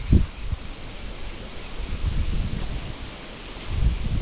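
Wind blowing outdoors at a riverside or lake while spinning-rod fishing, heard as low rumbling gusts buffeting the microphone, swelling and easing in waves across the clip.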